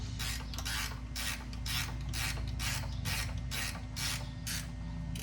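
A wrench works a bushing bolt on a Polaris Sportsman 800 ATV, giving a steady run of about a dozen rhythmic ratcheting clicks and creaks, close and loud over a constant mechanical hum.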